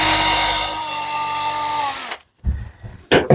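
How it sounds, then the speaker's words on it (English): A power drill runs steadily into a wooden cheese board's corner, then spins down and stops, leaving a short gap before several sharp clunks of handling. "drill all four corners like that."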